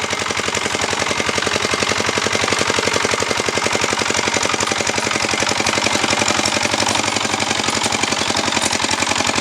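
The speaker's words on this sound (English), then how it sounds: "Young man plowing this field with that small tractor." Small tractor engine pulling a plow through a field, a steady rapid chugging thump that runs without a break, loud and close, with no talk over it.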